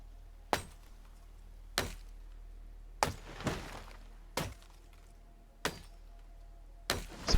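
Wood axe chopping a tree in Project Zomboid, six sharp woody thunks spaced about a second and a quarter apart, each with a short splintering tail, loud and close over a quiet background.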